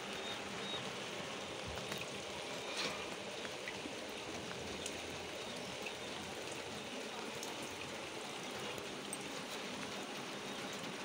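Steady soft rain patters continuously, a faint even hiss with scattered drip taps and no voices.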